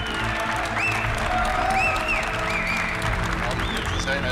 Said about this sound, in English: A big round of applause for our boss, Mr. Matthias Müller.